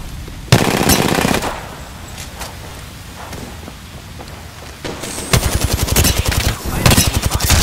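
Bursts of rapid automatic gunfire in the Apex Legends battle royale on the Olympus map, one burst early on and a denser stretch of rattling shots near the end, loud and close, with quieter game ambience between.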